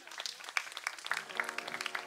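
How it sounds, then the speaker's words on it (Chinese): Audience applause welcoming a drummer onto a stage at a live music performance, a soft, fairly distant patter of many hands clapping, with brief faint voices mixed in. "然后我们掌声欢迎"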